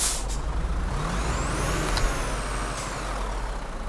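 Iveco truck in Euro Truck Simulator 2 releasing a sharp hiss of air brakes over a steady engine rumble, followed by a couple of further softer air bursts.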